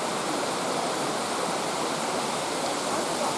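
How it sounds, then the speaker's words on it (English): Water cascading down the walls of an old building, a steady full rushing splash like a small waterfall, close and continuous with no talk over it. "Water's just cascading all down that old building."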